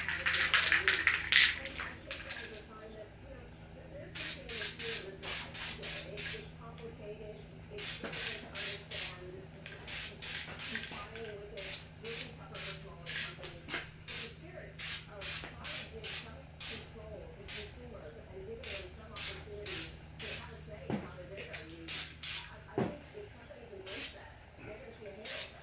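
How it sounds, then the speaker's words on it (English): Short hissing bursts of flat black aerosol spray paint onto a small air-gun cap repeat in quick, uneven pulses, with talking mixed in at a moderate level. "And we're going to spray our little cap."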